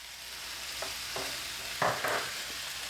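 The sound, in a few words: stirring beef with thyme in a pan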